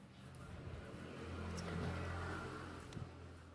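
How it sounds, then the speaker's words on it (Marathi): Bus engine in the driving game Bus Simulator India, a steady low motor drone that swells and fades gently as the vehicle runs at speed, quiet and continuous with faint clicks. "गाडी आपली पळू राहिली फुल"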